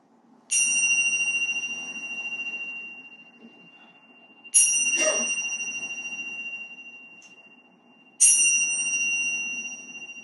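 Three ringing strokes of a bell, evenly spaced about four seconds apart, each a sharp bright strike that decays slowly into silence before the next.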